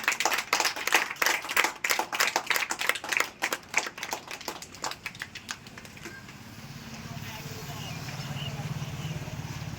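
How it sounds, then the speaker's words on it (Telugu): A crowd claps in quick, uneven bursts for several seconds, then the applause thins out and fades into a low background hum. "క్లాప్స్ పెట్టండి"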